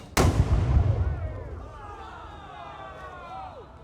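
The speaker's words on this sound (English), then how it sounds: "The English cannons getting ready to return fire." A single loud cannon blast booms close by at a historical battle reenactment in St Augustine, then rumbles and fades while a crowd murmurs and voices carry in the background.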